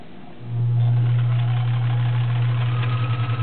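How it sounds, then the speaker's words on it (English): A vintage Kenmore model 1357 sewing machine starts up and runs a straight stitch, a steady close motor hum with a fast rhythmic needle beat that pulses more audibly toward the end. "now it's time to sew. Straight stitch to start with."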